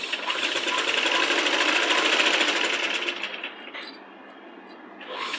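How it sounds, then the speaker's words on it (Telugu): Sewing machine running a double stitch along a child's Punjabi dress top, a fast continuous whirring chatter for several seconds that slows and drops away, then briefly restarts. "ఇలా డబుల్ స్టిచ్ వేసుకోవాలండి"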